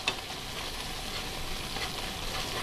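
Arbi (taro root) sautéing in a pan, a steady broad hiss of frying with a faint clink near the start, even and close without any talk.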